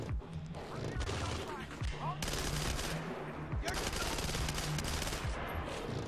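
Shotgun fire in the video game Splinter Cell Conviction: loud, heavy blasts and crashing impacts recur over several seconds within an ongoing firefight din.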